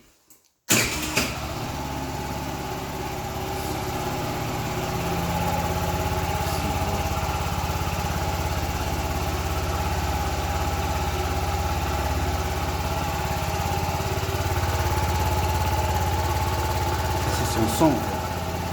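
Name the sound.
Peugeot Streetzone 50cc 4-stroke scooter engine starting and idling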